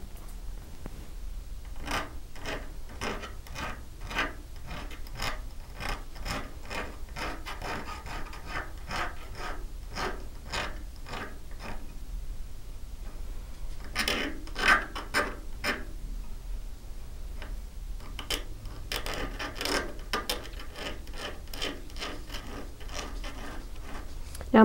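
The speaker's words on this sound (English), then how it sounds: "so I'm going to switch to a needle file." A needle file rasps along the sharp edges of a hand-sawn metal jewelry shape in steady, rhythmic strokes. The scraping is close and continues alone for a long stretch with no talking.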